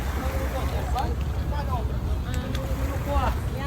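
A boat engine drones steadily amid wind noise as the boat arrives at Boracay, with voices calling out faintly over the motor.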